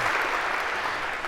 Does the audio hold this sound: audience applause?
yes